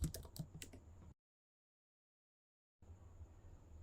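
A computer keyboard typing a flutter run command: a quick cluster of close, crisp keystrokes, then a sudden silence before faint room noise returns.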